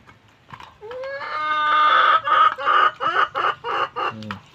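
Backyard chicks around three months old peep and cluck up close, a rising chirp opening into a steady run of rhythmic clucks and calls that pulse in short bursts.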